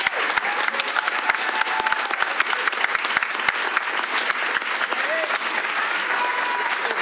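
A room of people at a school board of education meeting claps steadily for honored student athletes, a dense, even patter of many hands holding at a constant level for the whole stretch, with murmurs underneath.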